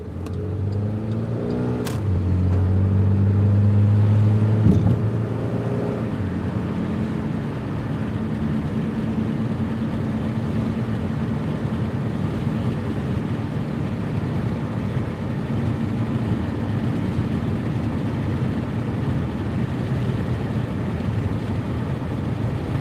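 A car on a late-night delivery drive, with a brief rev early on, then a steady, even drone of engine and tyres that carries on with no talking.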